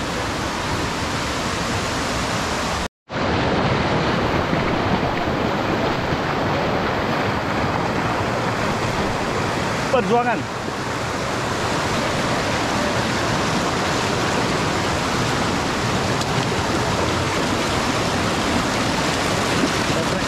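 Fast, forceful river water rushing along a tree-lined river, a loud constant broadband roar with a brief dropout near the start.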